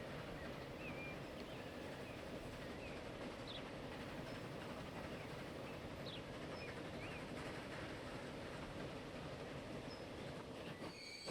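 Trains run continuously in Transport Fever 2, a dense steady rumble of rolling rail cars with faint wheel squeals and clicks throughout, loud and unbroken.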